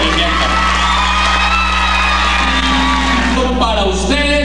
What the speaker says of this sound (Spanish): quiero pedir un aplauso bien fuerte para la Semana de la Vida